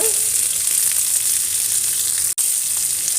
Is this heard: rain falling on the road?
no